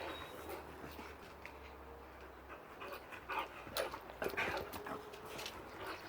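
A dog panting and shuffling around a rugby training session outdoors, with faint whimpers and movement noise over a steady low background hum, no clear barking.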